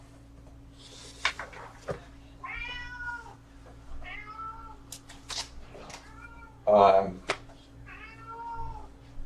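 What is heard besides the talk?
cat meowing for food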